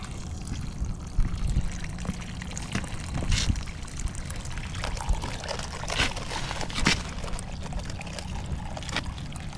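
Water pours and trickles into a gold pan full of sand, a steady wet splashing and rushing with occasional sharper spatters, moderately close and continuous, with no talk.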